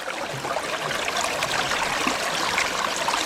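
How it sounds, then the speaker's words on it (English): Water rushing through a gold-panning sluice set in a small Scottish burn, a steady close-up babble and trickle of flowing water with no voices. "I just like that sound of the sluice and the water going through it."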